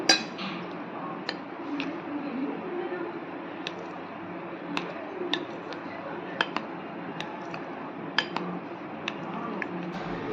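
Dry ingredients being stirred into an eggless chocolate cake batter bring scattered sharp clinks and ticks of a utensil against the bowl over a soft, steady mixing rustle, with a voice faintly present.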